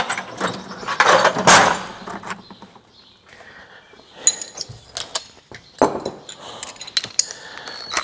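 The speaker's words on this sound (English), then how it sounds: "So we shall get 13 spanner" A 13 spanner working loose a coupling bolt on an automated Turbosawmill, heard as close metallic ratcheting, clinks and scraping in uneven bursts with short quiet gaps between.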